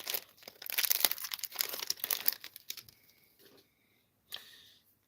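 A foil wrapper on a pack of Australian mystery sports cards crinkles and tears open, a dense close run of crumpling that thins out and stops, then one brief rustle near the end.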